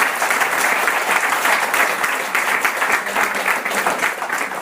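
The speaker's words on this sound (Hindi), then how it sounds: "चलिए तो एक बार जोरदार तालियां हम लोग बजाते हैं" Loud, sustained applause fills a lecture hall as the audience claps together at a motivational talk, a dense continuous patter with no break.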